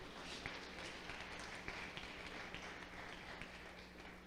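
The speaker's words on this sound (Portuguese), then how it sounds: "Você pode aplaudir a palavra de Deus." A church congregation applauding together after a sermon reading, a steady wash of many hands clapping at moderate volume for several seconds, with no talk over it.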